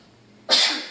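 A single sharp sneeze bursts out close by after a quiet moment and trails off in a breathy hiss.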